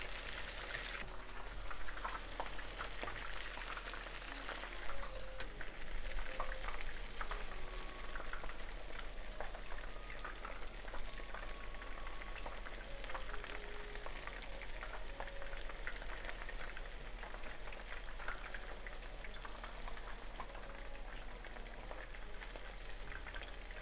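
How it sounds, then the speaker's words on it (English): Shrimp and onion kakiage tempura deep-fries in hot oil, giving a steady, crackling, rain-like bubbling that stays even and close throughout, with no voices. "And fry for 1 minute on each side."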